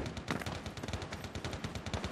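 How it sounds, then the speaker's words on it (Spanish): Rapid gunfire in the shooter Lost Light, a dense stream of quick shots rattling off at a steady pace, moderately loud and slightly distant-sounding, with no voices. "Porque están disparando por allá"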